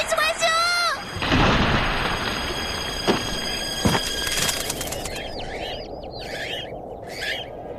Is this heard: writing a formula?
no